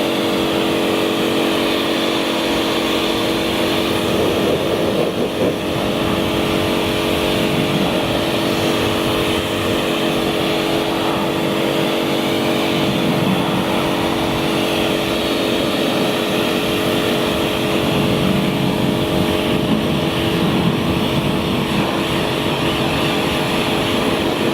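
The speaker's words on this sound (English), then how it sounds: "I'll show you the power of the electric pressure washer." An electric pressure washer blasts snow foam off a car in one continuous, loud, steady roar of spray and motor that carries on unbroken from start to finish.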